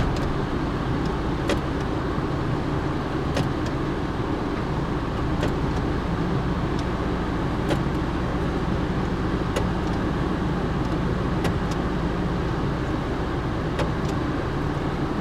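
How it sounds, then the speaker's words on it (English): A car left running in neutral while set up for flat towing behind an RV idles steadily and close by for the whole stretch, a constant low engine rumble with faint periodic ticks and no talking. "Then you put it in neutral and you let the car run for 3 minutes until you turn it off."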